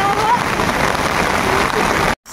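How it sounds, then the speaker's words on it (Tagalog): Steady heavy rain pours in a broad, even hiss for about two seconds, then cuts off abruptly; a voice is faintly audible underneath. "Lakas ng ulan."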